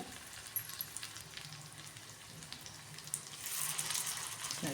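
Leftover-rice tikkis sizzling in a pan over a medium gas flame, a steady soft crackle of frying oil that grows slightly louder toward the end.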